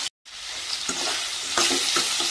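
Small shallots sautéing in a hot pan for beetroot chutney, a bright close sizzle broken by a few quick stirring scrapes, loud and without speech after a brief dropout at the start.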